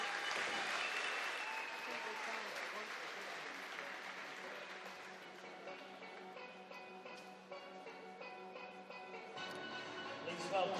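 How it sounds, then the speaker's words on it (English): Crowd at the 2014 Scottish national open swimming championships cheers and applauds steadily, a dense, loud, continuous wash of clapping and voices filling the hall throughout. "Everybody, let's have a huge cheer for Jack Ness."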